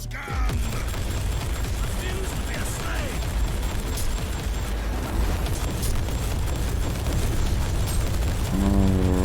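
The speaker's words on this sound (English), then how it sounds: "explosions left and right" Explosions in the Warhammer 40,000: Inquisitor video game, a dense, continuous barrage of booms and rumbling blasts with crackling debris, loud and layered throughout, ending with a short electronic sweep.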